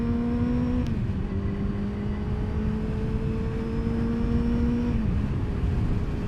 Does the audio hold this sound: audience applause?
no